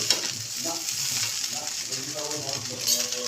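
Rice sizzles and fries in a pan while a utensil stirs it, producing a soft, continuous hiss with light scraping, close by and moderately quiet.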